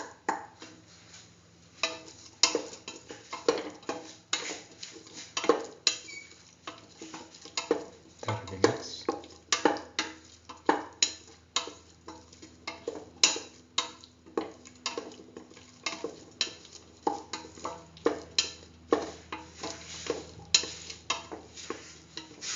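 A spoon clacks and scrapes rhythmically against a pot while stew with salt and green chili is stirred, repeated sharp taps over a soft background hiss, close and moderately quiet.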